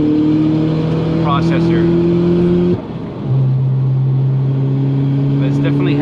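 MK4 VW Jetta Wagon with a big-turbo 8V engine and PT15 turbo heard from inside during a ride, steady droning engine tones that drop briefly at a gear shift and resume, with someone talking over it.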